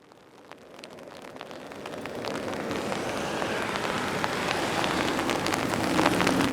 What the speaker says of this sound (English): the rain that was predicted is here now